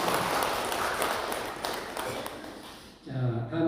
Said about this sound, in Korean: 우리 이분들 환영의 박수 한번 하겠습니다.